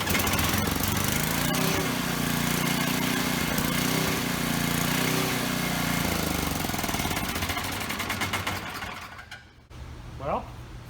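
After a restart, a Western Hemisphere 6000 watt portable generator engine runs loud and steady with a rough, buzzing drone, then cuts out abruptly near the end, leaving a quiet moment and a brief short sound.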